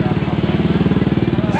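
Motorcycle engine droning steadily nearby in a narrow village alley in Sempur, Plered, Purwakarta, its low rhythmic pulse continuous throughout the short moment.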